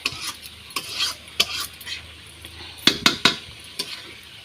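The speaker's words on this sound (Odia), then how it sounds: "ମୋର ଅଣ୍ଡା ଆଳୁ ଟିକେ କଷି ଦେଉଛି" Egg and potato are stirred in a frying pan, sizzling softly while a utensil scrapes and clacks against the metal in quick irregular strokes, the clatter growing sharper near the end.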